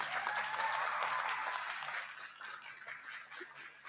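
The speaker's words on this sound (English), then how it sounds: "Let's give these Lamancha breeders a round of applause." Audience at a senior LaMancha dairy goat show clapping for the breeders, a dense burst of applause that thins and fades over a few seconds, with a faint honking or quacking sound mixed in.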